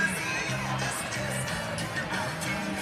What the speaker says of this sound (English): The Rock Valley student section, the Rockets trying to cheer on their team